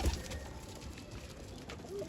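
Soft, low pigeon cooing in a quiet setting, a few muffled coos rising over faint background hiss with no talking.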